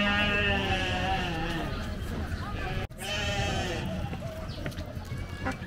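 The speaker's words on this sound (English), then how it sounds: "Hi, goats." Goats bleat in repeated harmonic calls on a farm in Qatar, loud and close in a noisy outdoor setting, with people talking throughout.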